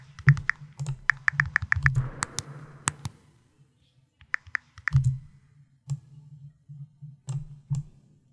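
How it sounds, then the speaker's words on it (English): Rapid clusters of small clicky taps from a phone keyboard being typed on, like a texting sound effect, arriving in short bursts with pauses between, close and fairly quiet. "hopefully we got some sounds of texting in here"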